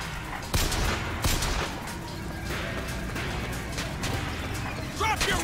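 Repeated gunfire in the video game Bioshock Infinite: sharp shots crack out in bursts across the clip over a dense, busy game soundscape with a low rumble underneath.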